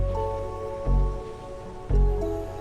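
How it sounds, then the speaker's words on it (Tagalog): Heavy rain pours onto a road in the San Roque area along the flooded Candaba–Baliuag road, a steady close wash of falling water with two brief louder low surges. "Lakas lang ng ulan ngayon."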